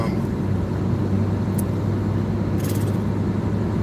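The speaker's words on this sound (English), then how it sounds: "it's the wind in the car traveling that's causing that" Wind noise inside a moving car makes a steady low rumbling roar throughout, constant and close, with a couple of faint brief clicks.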